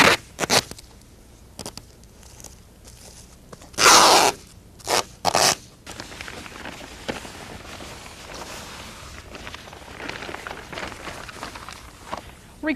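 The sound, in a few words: duct tape pulled and applied over styrofoam pool bottom seams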